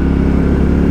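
A Royal Enfield Bullet 350 single-cylinder motorcycle pulling away, its close, loud engine beating in a fast, even thump under a continuous low roar, with no talking.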